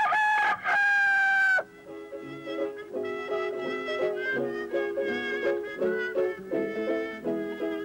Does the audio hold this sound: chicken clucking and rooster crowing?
yes